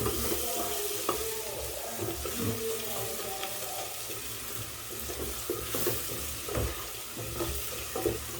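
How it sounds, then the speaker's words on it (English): Sauce seasoned with Maggi and salt being stirred in a pan, with soft scraping and faint sizzling at low level, with no talking. "Give it a very good stir."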